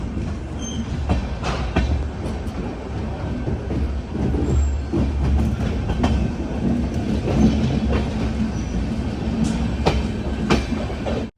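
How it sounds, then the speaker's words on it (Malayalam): The Donyi Polo Express pulls out of Lumding railway station with loud, rumbling wheels on the rails. Rhythmic clickety-clack and brief metallic squeals come through a steady low drone. "ഇതാ ലംഡിംഗ് റെയിൽവേ സ്റ്റേഷനിൽ ട്രെയിൻ എടുത്തിരിക്കുകയാണ്"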